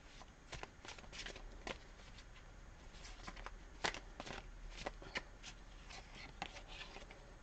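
Tarot cards shuffled and drawn by hand in a quiet room, giving a run of soft, irregular riffles and flicks with a few sharper snaps, fairly close and steady throughout.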